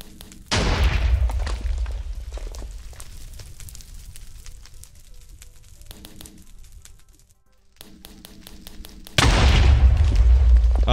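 Guns and explosives in Minecraft Bedwars on Hypixel, with two loud booming blasts at either end and a rattle of smaller shots and pops between them, set against the game's background sounds.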